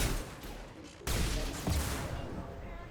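In Mass Effect 2, automatic weapons fire in rapid bursts of rattling shots, moderately loud and continuous, with a sharp rise partway through as the firing intensifies.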